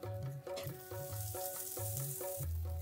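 Steady, close sizzle of ghee in a hot pan under a thick chakuli pitha on medium flame, a continuous frying hiss with faint scraping and a low hum, no talking.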